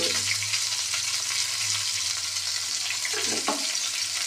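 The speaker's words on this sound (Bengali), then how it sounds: "এবার সুন্দর করে পটলগুলো ভেজে নিই।" Pointed gourd pieces frying in oil with turmeric in a pan: a loud, dense, continuous sizzle and crackle runs throughout, with a few soft stirring knocks near the end, close-up and without talk.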